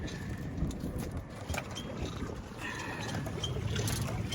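A small boat's outboard motor pushed to full throttle on the water, a steady low rumbling drone with wind and water wash, continuous and fairly even throughout, no talk.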